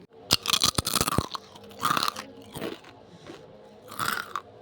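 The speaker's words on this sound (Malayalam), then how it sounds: "ഇങ്ങനെ കറുമുറു തിന്നുന്ന കേട്ടിട്ട് നിങ്ങൾക്ക് വായിൽ വെള്ളം വന്നോ?" Achappam, a crisp fried rose-cookie snack, is bitten and chewed close up: loud crunches come in quick bursts, then softer crunching continues in short, uneven spells.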